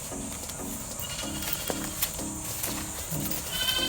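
A pregnant goat bleats repeatedly in a steady series of wavering calls, close by, over a constant background hum.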